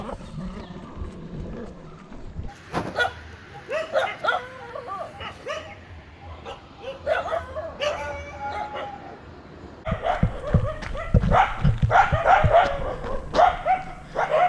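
Dogs on a roadside in Sri Lanka bark at a passing runner, a few sharp close barks scattered over street noise, with a louder burst of barking and commotion near the end.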